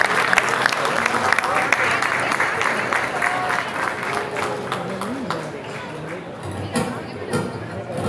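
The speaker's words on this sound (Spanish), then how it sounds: "Un aplauso, por favor." A crowd applauds at the opening of a Porcelanosa store in Venezuela, a loud, sustained burst of clapping with voices chattering underneath.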